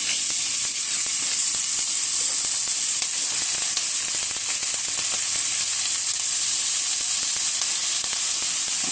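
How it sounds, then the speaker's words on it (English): Sticks of butter melt and sizzle in a hot pan, a steady bright crackling fry that holds evenly throughout with faint stirring clicks and no talking. "I'm adding my sticks of butter"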